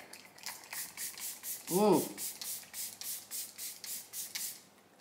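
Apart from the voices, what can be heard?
spritzing a facial mist spray bottle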